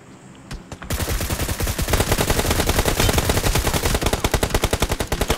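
Sustained rapid automatic gunfire in the mobile battle royale game BGMI, a dense loud stream of shots that begins after a couple of isolated pops and keeps hammering without pause.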